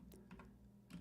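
Keys tapped on a computer keyboard in a few quick bursts, soft and close, with a steady low hum running underneath.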